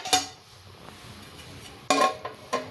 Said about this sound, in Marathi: झाकण अर्धवट झाकण ठेवायचं